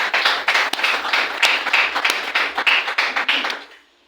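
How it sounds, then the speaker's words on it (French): An audience applauds a former prime minister of Gabon with brisk, slightly uneven clapping that carries for a few seconds and then fades away at the end. "Je crois qu'on peut applaudir"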